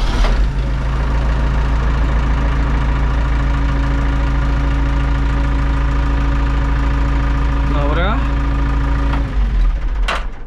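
An Ursus C382 tractor engine runs at a steady, loud idle throughout, with a low rhythmic diesel knock and a brief rising whine near the end before cutting off.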